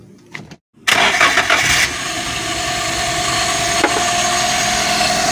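A Daihatsu Gran Max engine with its air cleaner removed cranks and fires, then settles into a loud, steady, slightly high idle while still cold.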